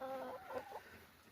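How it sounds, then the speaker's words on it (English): Backyard chickens clucking in melting snow and ice in early spring, a short burst of close, soft clucks and calls. "Hey, Mr. Chickens. Yeah, it's starting to be spring"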